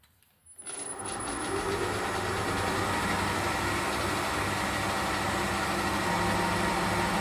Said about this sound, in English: I've got the four fluter now in the mill. I've got a piece of, it's a bit of EN3 mild steel, not the nicest stuff to machine.